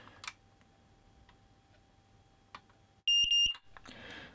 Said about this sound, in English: it still beeps when you press the test button